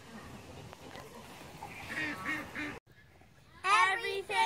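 Ducks quacking in a garden during a fall wrap-up, a few nasal calls at moderate distance mixed with speech, then a louder close burst of quacks near the end after a brief quiet gap.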